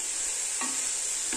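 Spinach stir-fry in a pan being stirred, soft scraping of a spoon over a steady sizzling hiss, with one clear stroke midway and another at the end.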